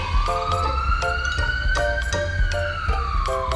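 An ambulance siren wails on a steady rising and falling sweep, loud and close, with bright pulsing tones layered under it, and no talking.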